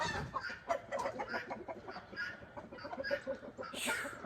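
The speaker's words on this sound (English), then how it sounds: "I got too many roosters in my hen house." Several chickens, including many roosters, cluck and murmur continuously in a busy hen house, with a brief higher squawk near the end.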